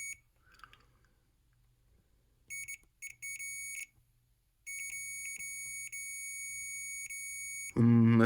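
A multimeter in continuity mode beeps while a video game cartridge's contacts are probed, giving loud, high-pitched electronic tones in short bursts and longer sustained stretches, with a brief louder sound at the end.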